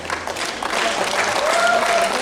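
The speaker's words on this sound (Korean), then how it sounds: "박수로 맞이해 주십시오." An audience applauds at an outdoor traditional performance stage during the 2022 Incheon Traditional Culture and Arts Festival: dense clapping that swells and holds, with faint voices and a whistle mixed in.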